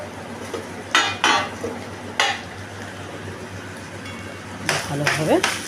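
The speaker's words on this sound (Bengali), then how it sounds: "ভালোভাবে তোমার নাড়াচাড়া করবে, ডালের সাথেই ওটা ভাজা হবে" A spoon scrapes and clinks in a pan in brief bursts while broken wheat dalia fries with added coconut, close by in a home kitchen, with a low steady hum underneath.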